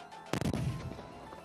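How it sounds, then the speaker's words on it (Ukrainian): A single sharp, heavy blast from an RPV-16 thermobaric flamethrower fired on a military training range, followed by a short rumbling decay, fairly distant and alone. "військовослужбовці тренуються стріляти з вогнемета"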